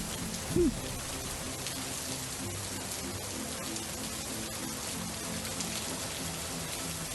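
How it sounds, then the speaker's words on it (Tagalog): Heavy rain falls in a steady, dense wash of noise that goes on unbroken throughout, with one brief low thump near the start. "Ang lakas ng ulan."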